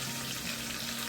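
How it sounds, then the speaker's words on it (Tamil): Onions fry in ghee with fennel, cinnamon, cloves and cardamom, giving a steady, close hiss and sizzle for chicken biryani in a pressure cooker, with no voices. "ஃபஸ்ட்டு இந்த வெங்காயத்தை ஃபுல்லாக வதக்கிடுவோம்"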